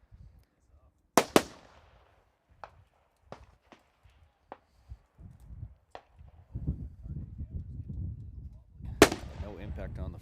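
Precision rifle shots at an outdoor long-range shooting match: two sharp, loud reports several seconds apart, with scattered clicks and handling noises between them and low voices in the background.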